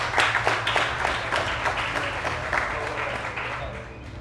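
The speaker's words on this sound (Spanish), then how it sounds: "Otro aplauso." Audience applause at a talk program, sharp individual claps early that blend into steady clapping and slowly fade, over a low hum.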